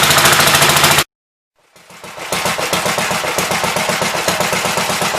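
A 1944 Gravely Model L walk-behind tractor engine with freshly tuned carburetor runs loud and close, cutting out for about a second before restarting into a fast, steady rapid-fire putter.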